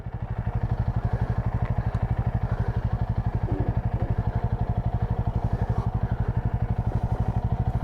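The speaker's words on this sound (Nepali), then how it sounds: "जा बस विनोद हिँड त्यो बाइक लिएर हिँड" A motorcycle engine thumps in a fast, even rhythm close by, holding steady and loud throughout without fading.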